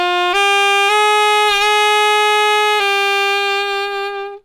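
A saxophone plays a smooth jazz phrase from a major scale, a few sustained, clean notes held in turn, close and loud, fading at the end.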